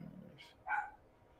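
A dog gives a single bark at moderate distance, preceded by a fainter yip, against low background rumble.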